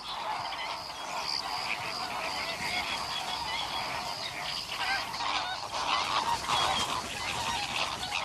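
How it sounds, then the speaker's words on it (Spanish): Flamingo flock calling at Fuente de Piedra lagoon in Spain, a dense, continuous chorus of honking, goose-like calls from many adult and young birds, loud and steady throughout with no talk. "potencia el trasiego constante de flamencos, adultos o jóvenes volanderos, en su búsqueda de las últimas aguas"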